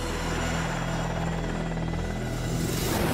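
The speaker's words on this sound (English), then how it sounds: "And here it is, the ultimate helicopter." A helicopter close by, its rotor thudding in a fast, steady chop over a loud engine roar that fills the whole moment.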